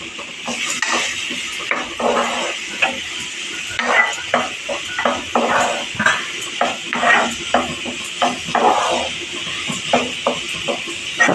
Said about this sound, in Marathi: दुधी चांगला परतून थोडा शिजवून घेणार आहे.